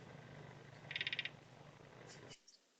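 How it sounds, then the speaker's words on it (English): A sparkling gourami in a home aquarium gives a short burst of rapid crackling clicks, about six quick pulses, heard clearly over faint tank hum. "let me show you a sparkling gourami sound"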